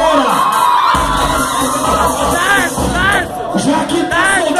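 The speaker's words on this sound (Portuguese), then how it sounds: "cadê o gritinho das solteiras" A loud crowd of single women screams and cheers at a live funk show in Osasco, shrill overlapping shouts and whoops rising in waves over a booming bass beat.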